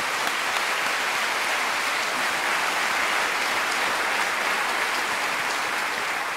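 Sustained, dense applause from a large audience at an inaugural ceremony and rally, a steady wall of clapping that lasts the whole stretch without any talk.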